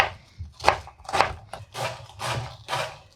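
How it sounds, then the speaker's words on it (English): Half an onion is finely chopped with a knife for a leek and potato pie: a steady run of five or six close, soft cutting strokes, each a short crunchy thud. "and chop it finely."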